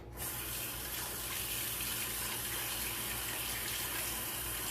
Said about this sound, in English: I'm just going to give this a light rinse